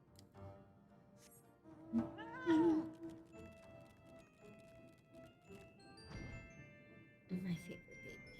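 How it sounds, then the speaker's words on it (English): A cat lets out a couple of short meows, one a clear rising-and-falling cry, against a quiet background of soft, sustained musical tones and occasional thumps, with a voice speaking. "My sweet kitty. My fat little loaf."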